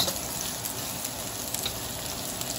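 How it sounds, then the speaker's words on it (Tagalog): Mushrooms cook in a hot pan with a steady, even sizzle and crackle of frying, constant and close throughout with no talking. "Kailangan pong maluto ng ating mushroom"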